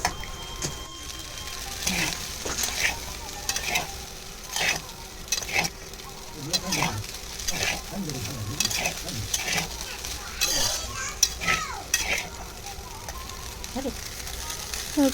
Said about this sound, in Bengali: এবার এটাকে আমি ভালো করে আবার একটু ভেজে নেব